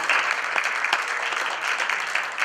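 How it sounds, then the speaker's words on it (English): An audience applauds a special guest from Banaras Hindu University at an Institute for Communication and Religion event, a steady dense wash of many hands clapping at once, fairly close and sustained with no talk over it. "He deserves a huge round of applause"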